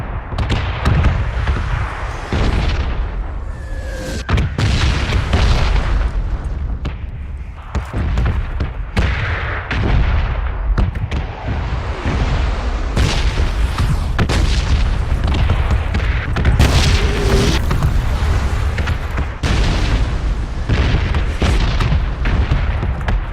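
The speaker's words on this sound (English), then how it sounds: "I am hearing shots in that direction" Gunfire in the PUBG battle royale game, a steady dense barrage of booming shots and blasts running continuously throughout, loud and overlapping with no pauses.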